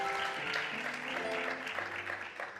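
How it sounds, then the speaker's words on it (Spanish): Steady audience applause welcomes a guest to an interview stage, a dense continuous patter with a sustained tonal hum underneath that softens slightly toward the end. "nos vamos a sentar acá con María Sisman, para quien pido un fuerte aplauso, por favor"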